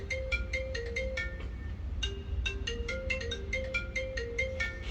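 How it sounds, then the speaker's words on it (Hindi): An iPhone ringtone plays nearby in a room where a MacBook Pro laptop is being repaired, a bright repeating melodic pattern of chiming notes looping steadily and clearly, with no talking. "इसका आईफोन बज रहा है"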